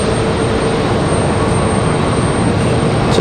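A Frontier Airlines airplane at Raleigh Durham International Airport gives a loud, steady broadband jet engine roar that holds constant throughout, with no other sounds standing out.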